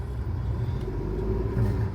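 Road traffic stuck in a jam at Mangaon, heard as a steady low rumble of car and vehicle engines from inside or beside a halted vehicle, continuous and moderately loud with no talk.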